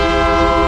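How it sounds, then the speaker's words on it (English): Freight train rolling through Uvalde County, Texas, its horn sounding steadily and loudly throughout alongside the rumble of passing rail cars, with no talking. "You can't always predict the exact time a train will blow through Uvalde County."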